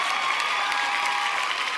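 A studio audience at a televised singing competition applauds loudly and steadily in a brief burst of continuous clapping.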